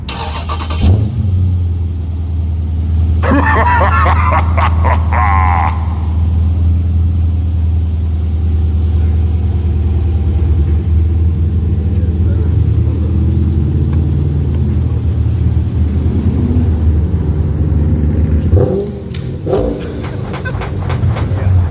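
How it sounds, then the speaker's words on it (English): A Dodge Charger Scat Pack with a new MBRP street catback exhaust starts up near the microphone, a brief whine and bark into a deep, loud idle that rumbles steadily, with a couple of short revs. "First start off with the new exhaust, man."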